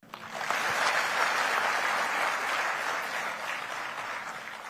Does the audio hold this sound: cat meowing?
no